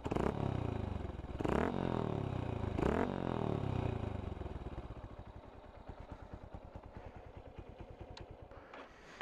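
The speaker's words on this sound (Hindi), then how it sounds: "so raving the engine" A Honda Hornet 160R motorcycle engine, in neutral, revs hard three times through a throaty Akrapovic full-system exhaust, then settles into a loud, lumpy idle that pops and putters.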